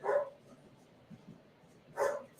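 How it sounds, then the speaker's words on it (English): Two sharp barks from Chewy, an excited pet dog just let outside, heard a couple of seconds apart at a moderate distance with a quiet room between them. "And my dog is barking."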